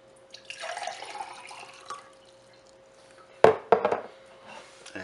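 Water pours into a glass in two separate bursts, a longer splashing trickle at the start and a shorter, sharper pour later, with a quiet pause between and no talking.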